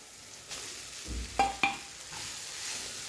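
Poha being stirred in a pan with onion and turmeric, a soft scraping rustle with a couple of sharper spoon clicks against the pan over a faint background hiss, no talking.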